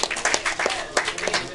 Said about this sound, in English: So we want to give Curdel another big round of applause.